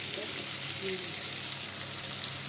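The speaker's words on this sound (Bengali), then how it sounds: "সবজি হালকা বাজার করলাম মশলার সাথে কষাই নিলাম সবজিটা" Vegetables sauté with spices for a homestyle vegetable khichuri, making an even, hissing sizzle throughout with faint voices in the background.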